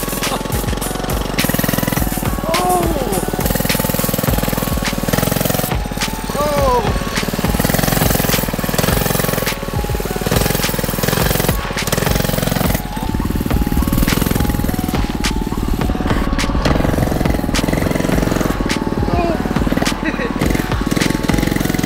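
An FRP mini bike's small engine revs hard and steadily through a wheelie attempt, a loud, constant rasping buzz close by, with people talking over it.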